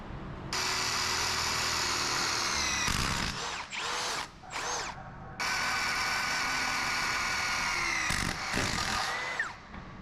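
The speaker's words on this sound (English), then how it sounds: "we're gonna have to drill that back hole." A power drill bores a hole through a large 36-foot garage door during a repair, running in long loud whirring stretches broken by short revving bursts and pauses, close by with no talking.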